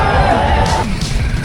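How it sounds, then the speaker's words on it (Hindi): A crowd of protesting farmers gathering at a farmers' protest in Bhopal, heard as a loud, dense babble of voices and shouts with crashing noise mixed in. "किसानों की भीड़ आती जा रही है यहीं पर"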